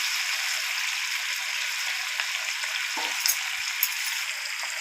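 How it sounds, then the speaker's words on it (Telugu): Mint and curry leaves fry in hot oil, giving a continuous crackling sizzle with a few sharper pops and a faint stir or clink partway through, with no talking. "పుదీనా కరివేపాకు మొత్తం నేను ఆయిల్లోనే వేస్తాను"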